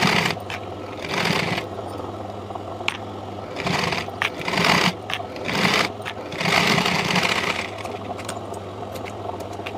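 Sewing machine stitching along the hem of a long boat-neck frock, a steady mechanical whir in several bursts that pause and restart, with faint handling scrapes between runs.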